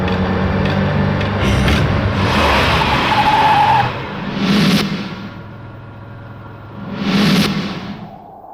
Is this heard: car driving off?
yes